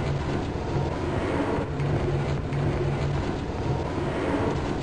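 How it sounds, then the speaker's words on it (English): A tram rolling along in the video game Half-Life: Opposing Force, a steady low mechanical rumble with droning hum, continuous and fairly loud, no talking. "The tram is going to move."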